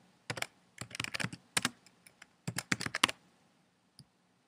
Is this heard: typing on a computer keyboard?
yes